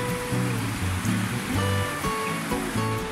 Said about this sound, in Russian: Это река, она выходит на поверхность из-под земли и потом уходит под землю же